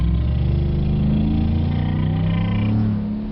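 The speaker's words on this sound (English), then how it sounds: "And listen to this truck." A truck engine drones steadily while driving, a loud low rumble with sustained harmonic tones that shift slightly as the vehicle slows, with no talk over it.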